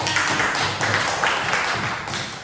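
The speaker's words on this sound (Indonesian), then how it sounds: "Terima kasih, tepuk tangan temannya." Primary-school classmates in a classroom clap for a presenting group, a close, loud burst of scattered hand claps lasting a couple of seconds.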